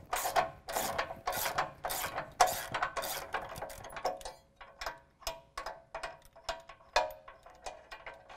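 A hand ratchet backing out two 24mm bumper guard bolts on a 2017 Dodge Ram, rapid clicking bursts of pawl ticks in repeated strokes, close and crisp, the later strokes quicker and lighter, no talking.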